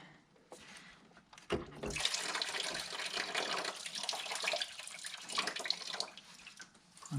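Coolant gushes steadily from a disconnected radiator hose on a BMW E9X with an N51/N52 engine, a close, continuous splashing pour that starts abruptly after a few soft clicks and runs on without a break.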